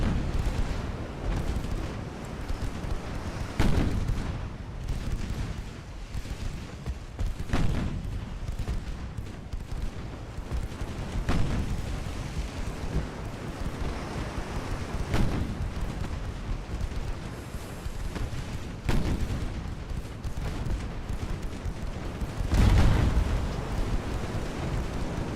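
Heavy naval gunfire booms repeatedly in an 1890-era warship battle in Ultimate Admiral: Dreadnoughts, with loud deep blasts every few seconds over a constant low rumble.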